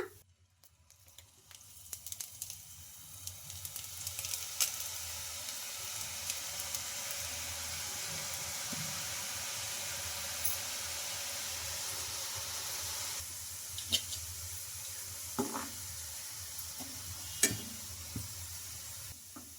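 Potato slices frying in oil for aloo bhujia make a steady, moderate hiss that holds for most of the stretch and eases near the end, broken by a few faint clicks of turning.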